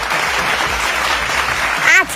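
Applause at an outdoor married-versus-single cricket match, a steady broadband wash of clapping lasting throughout, with a voice briefly rising near the end.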